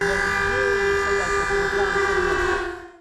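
A loud, sustained air-raid siren in Dnipro, Ukraine wails steadily, a droning civil-defense tone holding for a few seconds before fading out.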